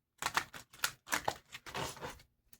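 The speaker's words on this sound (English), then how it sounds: "I'm gonna shuffle this a couple times" A deck of playing cards being shuffled up close, several short riffling bursts with brief pauses between them, quiet and alone.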